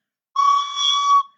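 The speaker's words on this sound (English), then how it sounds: "It sounded its whistle" A single whistle blast from a passenger train engine bursting out of the Moffat Tunnel, one clear sustained tone lasting under a second, loud and close, starting and stopping abruptly against silence.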